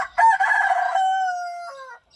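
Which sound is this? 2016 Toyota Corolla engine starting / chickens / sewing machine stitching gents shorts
chickens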